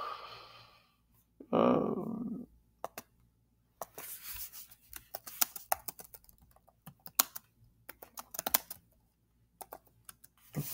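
Computer keyboard typing in bursts of close, sharp key taps spread across the stretch, after a brief breathy sigh near the start.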